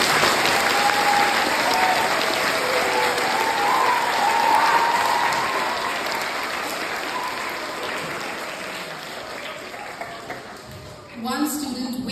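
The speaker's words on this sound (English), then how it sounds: "Can we have a huge round of applause?" Large crowd of children and adults applauding at a school Foundation Day celebration, a dense, sustained wash of clapping that gradually thins and softens toward the end.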